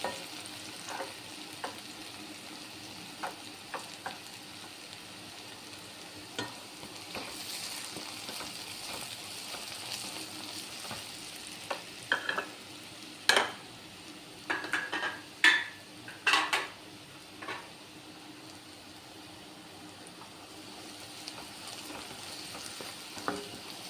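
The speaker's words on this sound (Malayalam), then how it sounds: "ഇളക്കി യോജിപ്പിക്കുക." Chicken cutlet filling with onion and curry leaves stirred in a frying pan: steady soft sizzle with scraping spoon strokes and a cluster of sharper clinks against the pan midway, no talking.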